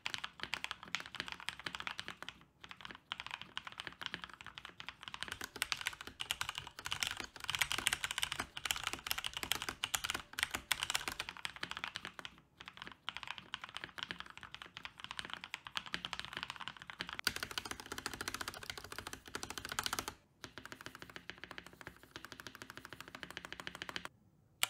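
Rapid typing on a modded Mountain Everest Max keyboard with lubed switches gives close, dense clacking with a steady rhythm and a few short pauses. The keys sound soft and fairly quiet.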